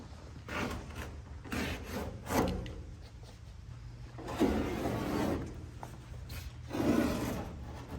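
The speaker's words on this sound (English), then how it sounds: "pushing down on the vinyl, and the plywood kind of just guides my blade" A blade drawn through vinyl pontoon flooring along a plywood edge, giving repeated scraping, rubbing strokes in uneven bursts, fairly close and moderately quiet, with no talking.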